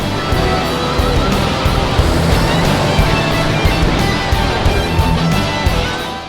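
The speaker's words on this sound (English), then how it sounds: "Excavators load it onto huge vehicles." Huge mining haul trucks with four-metre wheels carry blasted stone at an open-pit quarry in the Atacama desert, a loud, dense, rumbling engine roar that stays heavy and constant throughout.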